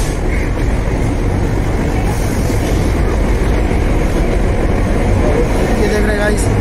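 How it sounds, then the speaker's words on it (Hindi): A Howrah–New Delhi Duronto special train stands at platform 10 of Howrah station after arriving, its steady rumble blending with loud, constant station crowd noise throughout. "ये हावड़ा स्टेशन पे प्लेटफॉर्म नंबर 10 पे आ चुकी है train Howrah new Delhi special Duronto"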